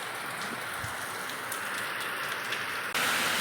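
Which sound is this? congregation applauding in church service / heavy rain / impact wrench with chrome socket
heavy rain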